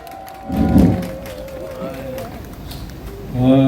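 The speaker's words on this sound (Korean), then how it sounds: "다시 한번 큰 박수 부탁드립니다." At an outdoor political rally, a crowd answers with a swell of cheering and clapping, rising to a burst, easing under an amplified voice, then surging again near the end.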